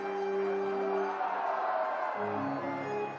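An excited baseball crowd of about seven thousand at a Pacific Coast League playoff game in Las Vegas, a steady roar of cheering with sustained tones running through it.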